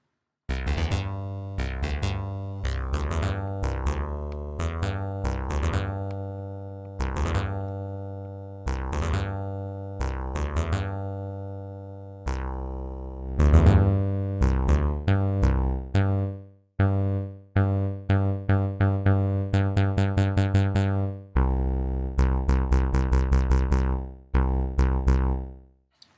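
A Native Instruments Kontour synthesizer for Reaktor plays a long run of plucked, tonal notes with rich harmonics, in rhythmic phrases and held chords that grow denser and brighter toward the end, loud and alone with no talk.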